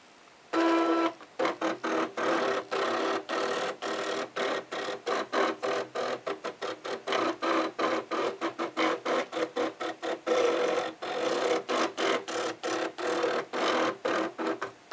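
A Cricut cutting machine drawing and then cutting a design, giving a steady mechanical whir broken by rapid, irregular clicks and stepping bursts of the carriage, close and fairly loud throughout with no talk.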